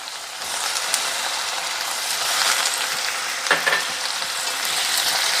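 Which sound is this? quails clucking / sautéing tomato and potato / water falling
sautéing tomato and potato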